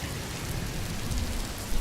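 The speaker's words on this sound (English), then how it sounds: "All that was left was the sound of the raindrops clicking against the window." Steady rain patters against a window glass, a dense, even hiss of countless small droplets that stays constant and fairly loud throughout, with no voices.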